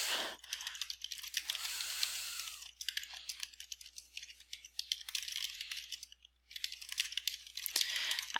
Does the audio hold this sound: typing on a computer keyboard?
yes